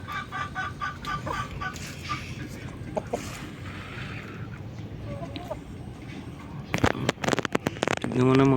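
Kabir chickens in a backyard farm cluck and call intermittently over steady outdoor background noise, with a person talking nearby and a burst of louder clattering and bird activity near the end.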